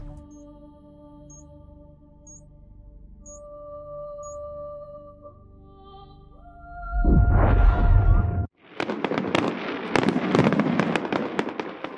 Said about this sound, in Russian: Ведь олигархи обожают фейерверки.